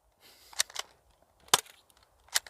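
A cheap toy Canik pistol fires and hits a pole outdoors. A few faint, sharp snapping cracks are spaced irregularly across a quiet background.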